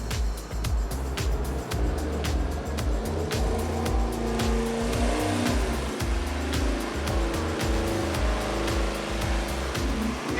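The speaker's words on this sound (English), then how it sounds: "He's running it now with the runner set long." Gen III Hemi engine running hard on a dyno with the intake runners set long, a loud, sustained roar with a throbbing low-end pulse and a constant mechanical din, no voices.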